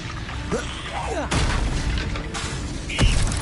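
Fire-spell blasts from Hogwarts Legacy: a sharp booming burst followed by crackling debris, then a second impact with a whooshing tail, mixed with game effects and a voice calling out spells.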